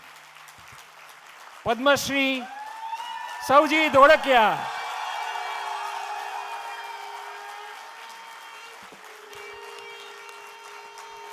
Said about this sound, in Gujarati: જોરદાર તાળીઓથી સ્વાગત કરીએ